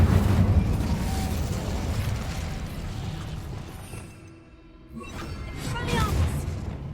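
Incendio fire spell cast in the video game Hogwarts Legacy, a loud whooshing burst of flame that dips briefly and then flares again, with no talk over it.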